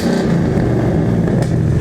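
A car engine fitted with new mufflers revs up and holds a steady, loud, throaty drone close by, with no talk over it.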